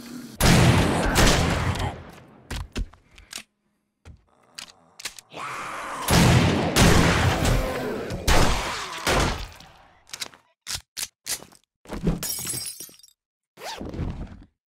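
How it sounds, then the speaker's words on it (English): Shotgun blasts in the horror game Trailerhood Terror, several sharp, loud shots with crashing and breaking debris, separated by short silences and a run of quick clicks and clacks near the end. "Yeah, good old shotgun."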